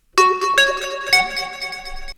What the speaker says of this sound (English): I've just sound designed this really funky lead which sounds like this